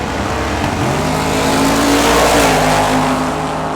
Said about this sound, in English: El Camino against the Mustang.